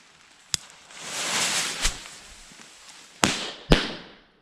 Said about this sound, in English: Now we're going to do another 2 of these 1/4 gram firecrackers and hopefully light them at the same time.